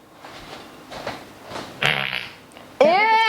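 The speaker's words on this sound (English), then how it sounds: "Alexa, fart." An Alexa smart speaker plays fart sound effects in a kitchen, a short burst followed by a louder, longer rasping fart, with soft background noise between them.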